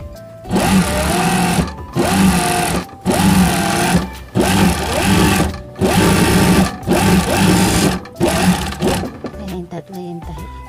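Piping sewing machine running without its spreader, stitching in several loud, steady bursts of about a second each, separated by short pauses, with brief lighter clicks at the end.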